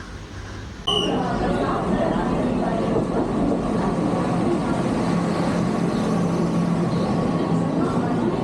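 A train pulls into Thane railway station with a loud, continuous rolling rumble that starts abruptly and holds steady to the end.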